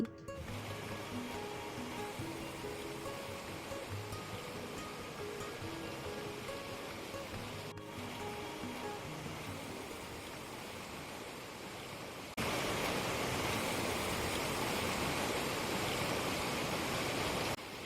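A river rushes steadily through Bidyang Valley in Kalimpong, a broad, continuous roar of water heard from nearby, growing louder and fuller toward the end, with no voices.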